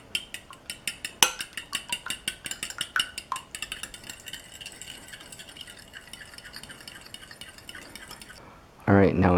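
Eggs whisked in a bowl ahead of an oatmeal omelette: a fast, regular run of clinking utensil strokes against the bowl, loud and close, slowing and fading before a brief burst of other noise at the end.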